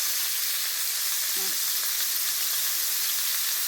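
Chicken breast seekh kebabs frying in a pan give a steady, even sizzle with a constant hiss throughout and no distinct pauses.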